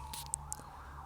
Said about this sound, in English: maybe I think that's an ambulance